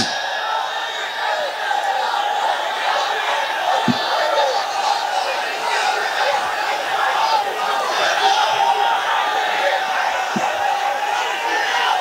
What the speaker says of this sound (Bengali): এখন একটা তাকবীর দেন মন ভরে।